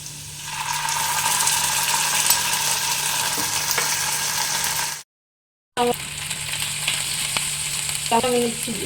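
Homemade ginger, green chilli and garlic paste fries in a pan for chana masala, a loud steady sizzle that cuts out briefly midway, then returns with light stirring clinks.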